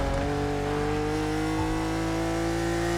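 Car exhaust revving in The Crew Motorfest racing game, a steady loud engine drone holding a constant pitch for the full three seconds, with a brief dip in the low rumble midway and no talk.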